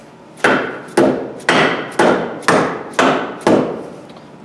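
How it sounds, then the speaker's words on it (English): Six evenly spaced hammer taps seating a wheel seal on a Case IH MFWD axle, each a sharp, close knock with a short ringing decay, about half a second apart and with no voices. "I'm going to seat this just a little with the hammer"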